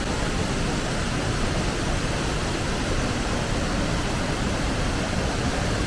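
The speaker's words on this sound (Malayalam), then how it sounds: "താഴോട്ട് ആ വീഴുന്ന വെള്ളം" Bushkill Falls in Pennsylvania pours down in a steady, loud roar of rushing water, a dense, unbroken wash of noise heard close by for the whole stretch.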